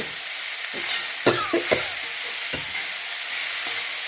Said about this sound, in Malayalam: എന്നിട്ട് നമ്മൾ നല്ലോണം ഇളക്കി കൊടുക്കുക